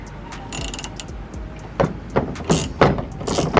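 A spring compressor on a front strut from a G37 suspension overhaul is tightened by hand, with irregular metallic ratcheting clicks and clanks close by, growing louder toward the end, and no voices.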